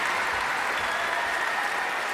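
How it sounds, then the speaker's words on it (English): Dense crowd applause from stadium fans in a sports video game, loud and continuous with a steady roar, no pauses. "Quite rightly taking the applause of the fans."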